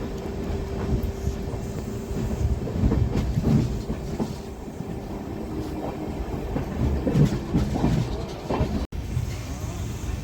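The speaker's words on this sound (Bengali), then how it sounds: "আমাদের এই ট্রেন এখন 2 মিনিট হল্টের পর আমাদের ধর্মনগর স্টেশন থেকে ডিপার্ট করে নিল।" A mail express train running on the Agartala–Narangi line just after leaving Dharmanagar station, with a steady loud rumble and rhythmic clickety-clack of wheels heard from inside the coach throughout, with no speech.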